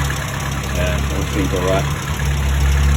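A car engine idles steadily after being started following work in the engine bay, a constant low rumble running throughout while someone speaks briefly over it.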